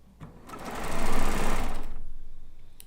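A sewing machine stitches quilt blocks at a stitch length of about 2.5 to 3, its motor rising into a rapid, even whirring run lasting over a second before slowing away, close and loud.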